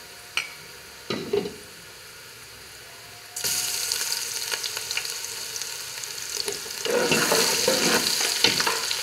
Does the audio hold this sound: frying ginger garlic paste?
yes